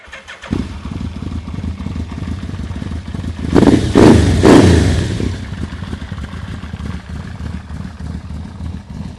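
A Yamaha V-Max 1200 motorcycle with V-boost starts up and idles with a close, lumpy rumble, then revs hard twice in quick succession before settling back to a loud idle.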